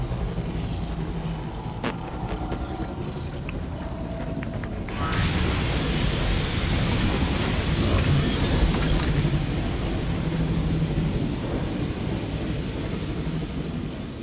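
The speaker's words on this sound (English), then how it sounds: "Void storm rolling in. Batten down the hatches." A void storm rolls in during Warframe: low, continuous rumbling wind and roar that swells sharply midway and stays loud and dense, with scattered cracks like distant thunder.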